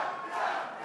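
A dense election-night crowd cheering for Doug Ford, a sustained roar of many voices that swells briefly and stays loud and even for under a second.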